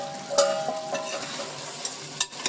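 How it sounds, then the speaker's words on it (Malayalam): Kerala-style country chicken roast fries on a low flame while being stirred, giving a gentle sizzle punctuated by several distinct scrapes and knocks of a utensil against the pan. "ഇടയ്ക്ക് ഇടയ്ക്ക് ഇടയ്ക്ക് നമുക്ക് ഇളക്കി കൊടുക്കാം"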